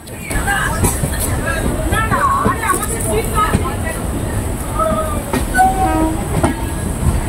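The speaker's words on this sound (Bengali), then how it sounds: "হাওড়া থেকে ছেড়ে দিল 12857 হাওড়া তাম্রলিপ্ত এক্সপ্রেস" The Howrah–Tamralipta Express pulls out of Howrah station with a steady loud rumble and clickety-clack of wheels on rail. Passengers' babble and talk carry over the noise, and squealing wheels and short horn-like tones cut through.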